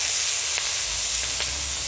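Purslane sizzling as it hits golden frying onions in a pan, cooked outdoors at a tent; a steady broadband hiss throughout with a couple of brief sharper crackles, no talking.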